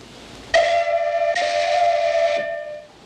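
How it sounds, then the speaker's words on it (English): Steam whistle blown in two long steady blasts, the second following closely after the first, each a clear tonal wail with harmonics, loud and alone, fading at the end. "And if something gets in our way, we just blow the whistle."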